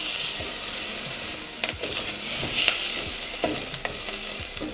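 Garlic fries in a pan for red lentil bolognese, giving a loud, steady, close sizzle with a few light scraping stir strokes over it and no talking.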